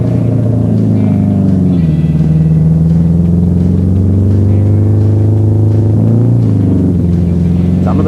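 Racing cars on the circuit at the 1970 BOAC 1000 give a loud, continuous deep engine rumble, with the pitch sagging and rising again as the cars pass, heard with no talk over it.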